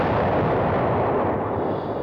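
A 1,000-pound bomb explodes on the deck of the aircraft carrier USS Forrestal during a shipboard fire, heard as a continuous, loud, dense roar of blast and rumble lasting about two seconds.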